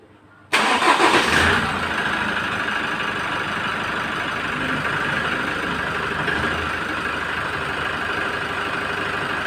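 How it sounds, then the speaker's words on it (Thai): A Chevrolet Colorado engine cranks briefly and catches with a loud burst, then settles into a steady, even idle that continues to the end, after alternator repair. "เนี่ยมีแต่เสียงเครื่อง"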